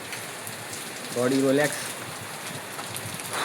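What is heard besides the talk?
rain falling on roof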